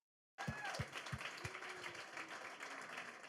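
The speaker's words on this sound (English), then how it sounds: "Everyone, a big round of applause." Applause from a panel audience for the speakers at an evening SDR panel event, a steady broadband patter of many hands that starts abruptly after a brief silence and holds at even strength, with a few low thumps at the start.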